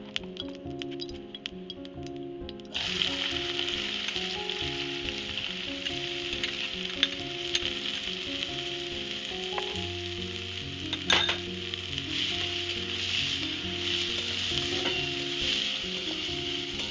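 Onions fry in hot oil for a dhaba-style boiled egg bhurji, a steady close sizzle starting a few seconds in and crackling continuously alongside background music.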